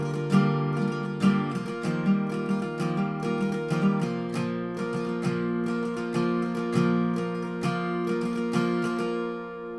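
Strummed acoustic guitar runs through the verse of a song, a quiet, steady pattern of chords with hammer-ons and no palm muting, played up close with no voices.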